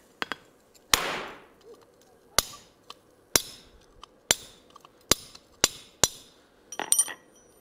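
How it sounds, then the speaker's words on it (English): A big piece of hot forged steel is laid on a steel plate with snow stuck to it, setting off a loud, irregular series of about ten sharp cracks and pops over several seconds. "That happens when you have snow and whatnot stuck on a plate and you lay a whopping piece of hot steel on there."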